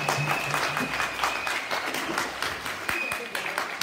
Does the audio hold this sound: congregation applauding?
yes